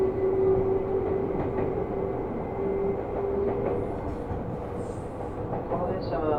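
A Seibu Railway New 2000 series local train on the Ikebukuro Line running at speed, a steady rumble and rattle of wheels with a sustained motor tone and faint squeals near the end, under an onboard announcement voice.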